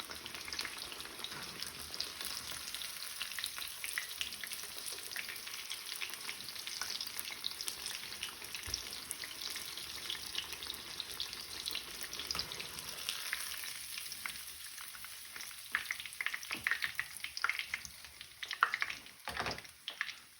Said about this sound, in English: My Spaetzel is fried with toasted in brown butter